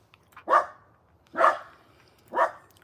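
Dogs in the Philippines bark three times in evenly spaced single barks, each loud and close with a short tail, with a low background hum between them.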